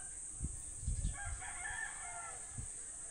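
Chickens and a rooster at a rural poultry yard at morning, several short clucks and a crowing call heard at moderate distance over a steady high-pitched insect drone, no talking.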